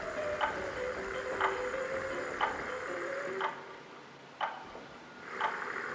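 Steady clock ticking from Honkai Star Rail, a crisp tick about once per second repeated six times over a soft ambient game drone, with no voices.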